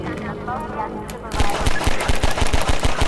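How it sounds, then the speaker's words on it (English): Rapid automatic gunfire from the video game Half-Life rattles in a fast, loud, steady burst after a second of quieter game ambience, with a voice talking over it. "Get out and shoot them."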